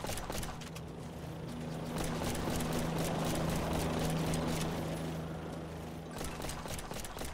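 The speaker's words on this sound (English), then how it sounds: "Here comes a chopper." A helicopter arriving in the zombie survival game Yet Another Zombie Survivor, a low droning hum with rapid pulsing beats that swells toward the middle and then eases, accompanied by game effects.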